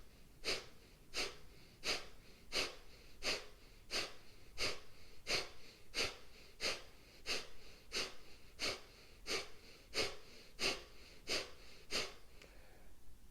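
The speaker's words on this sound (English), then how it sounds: "a sharp exhale through the nose" Rapid, forceful nasal exhales during yoga kapalabhati-style breathing, about sixteen sharp puffs in a steady rhythm roughly one per second, close and clear with no talking.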